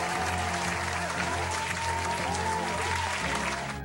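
Steady, dense applause from a crowd fills the whole stretch at an even level, with no talk over it.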